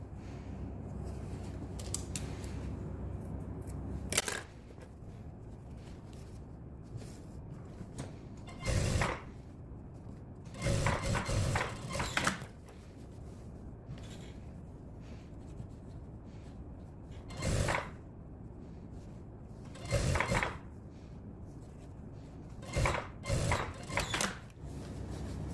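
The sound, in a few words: sewing machine stitching a denim jacket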